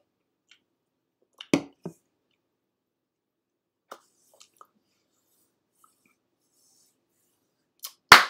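A single hard hand clap lands sharp and close near the end, after a few scattered faint clicks and taps in an otherwise quiet room.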